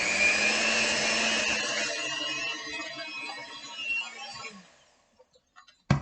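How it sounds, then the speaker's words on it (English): Banana pancake batter for blueberry banana pancakes being mixed, likely with an electric mixer, running as a steady whir that fades out, followed by a few light clinks. "we're going to mix that together now"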